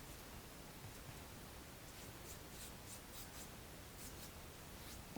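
A soft, continuous scratchy rubbing of a paintbrush's bristles dragging across canvas, faint and close, with a few brighter strokes in a loose rhythm.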